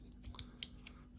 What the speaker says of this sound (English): in the inside of the curl half, we have scissors, basically standard Leatherman scissors